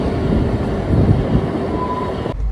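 The 12311 Netaji Express rumbles along steadily, a continuous loud low roar of a moving train heard from inside, cutting off abruptly at the end.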